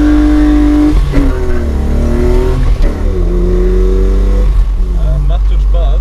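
An Opel Manta B with a 3.0 engine conversion revs loudly while sliding sideways, the engine note rising and dipping with throttle changes, near and continuous for six seconds under a steady low drone.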